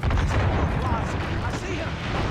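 Cannon fire and gunfire from Assassin's Creed Rogue rumble as a heavy, continuous low boom close up, with voices talking over it.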